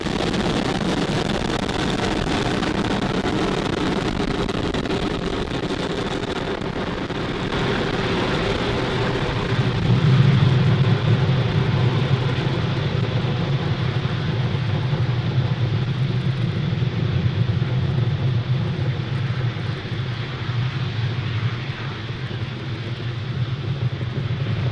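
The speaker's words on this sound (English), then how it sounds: "Falcon 9 has successfully lifted off from Pad" A SpaceX Falcon 9 rocket lifting off on a Starlink mission, a dense distant roar and rumble that holds steady and swells slightly partway through before thinning a little at the top.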